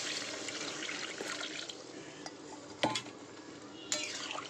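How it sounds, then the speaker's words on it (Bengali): Water poured into a simmering chana dal fritter curry in a pot, a steady splashing rush with a few clanks of a utensil against the pot. "এবার পরিমাণ মতন জলটা দিয়ে দিই।"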